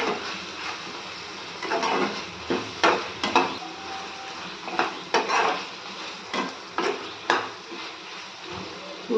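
A spoon stirs chicken gravy seasoned with salt in a pan, Rayalaseema style, making repeated scraping knocks against the metal over a low simmering sizzle, with no talking.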